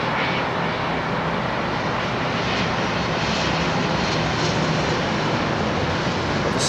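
Steady, loud jet engine roar from an Etihad Airbus A380 descending toward London Heathrow, a continuous broadband drone with no breaks.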